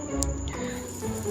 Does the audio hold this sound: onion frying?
no